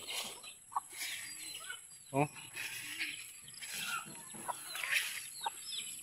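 Faint chicken clucks come from around a tomato garden, scattered short calls against quiet outdoor ambience, with a man briefly exclaiming.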